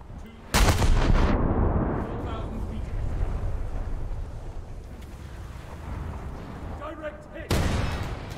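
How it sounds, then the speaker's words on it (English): Heavy naval guns boom from a warship at an enemy boat, one loud blast near the start and another near the end, with a low rumbling background and some voices between them. "so we're going to fire upon him now."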